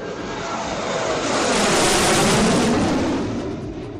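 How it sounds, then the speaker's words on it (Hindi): Sukhoi Su-30MKI fighter jets of the Indian Air Force roar over the Agra–Lucknow Expressway during a touchdown drill in the Gagan Shakti 2024 exercise, a loud broadband jet rumble swelling to a peak midway and easing off, with no voices. "आगरा लखनऊ एक्सप्रेसवे पर गरजे लड़ाकू विमान।"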